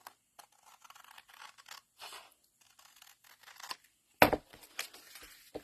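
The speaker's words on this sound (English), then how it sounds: "Long scissors, cut off the bottom." Long scissors cutting card stock on a craft table in a series of quiet, close snips and scratchy slicing sounds, with one sharper louder cut near the end and no talking.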